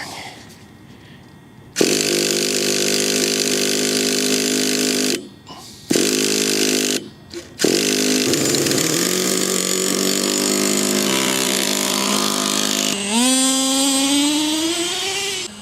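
Nitro fuel engine of a Traxxas T-Maxx RC truck starts after a brief quiet lead-in, then buzzes loud and steady with short throttle cuts and rising revs near the end, no talking.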